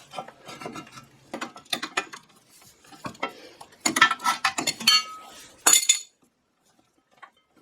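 A ratchet loosens an already-loose rear brake fastener on an Audi A4, giving a run of close, dry rasping clicks in bursts that stop abruptly, followed by near silence.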